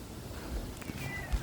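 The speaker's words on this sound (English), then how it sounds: "that's my cat." A fluffy cat gives a short, soft meow indoors, a brief close vocal over quiet room background.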